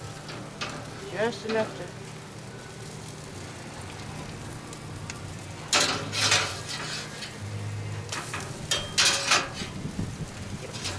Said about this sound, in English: get them sizzled up.